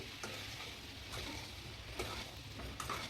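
Potatoes and cauliflower sizzle quietly in a pan as they are mixed, a faint steady frying hiss with a few soft scraping clicks of the spoon.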